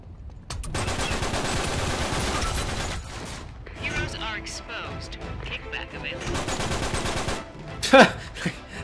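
Gunfire in Uncharted 3 multiplayer, with long dense bursts of shots and a sharp loud crack near the end, with a player talking over the action.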